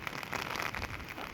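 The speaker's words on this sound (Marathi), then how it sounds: "इतका पाऊस आहे की वारं पण भरपूर आहे" Heavy monsoon rain with strong wind in rural Konkan beside rice paddies, a dense, steady roar of rainfall and gusting air filling the whole short stretch without any speech.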